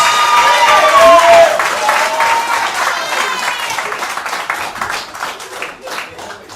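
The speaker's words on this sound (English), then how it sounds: "Give him a round of applause." An event audience applauds to welcome a speaker to the stage, with loud, dense clapping and crowd noise that slowly tapers off, while a voice talks over it.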